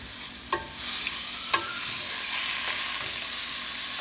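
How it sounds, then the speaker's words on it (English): Tomatoes sizzling in a hot pan for Filipino chicken tamarind soup, a dense, steady hiss of frying broken by a few sharp clacks of a stirring spoon. "Now we put our tomatoes."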